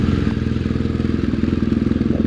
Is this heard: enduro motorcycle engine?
yes